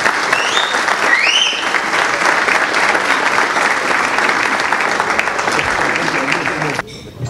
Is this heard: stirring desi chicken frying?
no